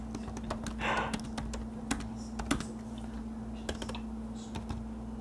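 Steady, close fingertip typing on a computer keyboard during a soft-spoken appointment roleplay. Crisp clicks and clacks keep up a busy, uneven rhythm over a faint constant hum, with no talking.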